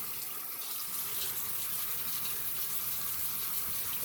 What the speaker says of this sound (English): And I'm tapping most of the paint out with the water running over the bristles